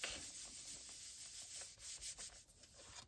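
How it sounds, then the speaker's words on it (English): Paper card piece rubbed by hand on its back to stick it down on a card base, a soft, close dry rubbing with repeated brushing strokes, quiet and steady, no talking. "Might be easier just to rub it on the back."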